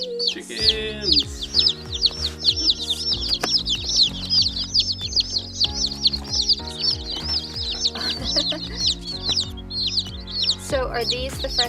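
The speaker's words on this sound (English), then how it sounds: "Chickens!" Newly arrived baby chicks, French Copper Marans and Welsummers, peep constantly: a dense, high-pitched chorus of rapid chirps from several birds, close by, over a steady musical backing.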